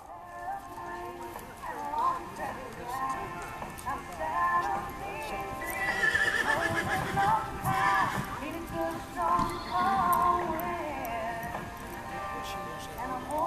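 Several horses at a riding session neigh now and then as hooves clip-clop steadily in the background, with people talking over the animals throughout.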